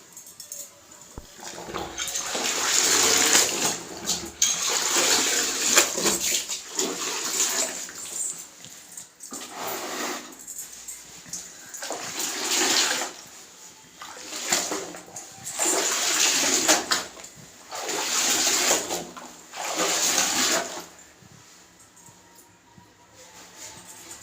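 A silk saree is dipped and sloshed in water by hand, giving repeated rushing splashes in rhythmic bursts, loud and close, with brief lulls between dunks and no talking.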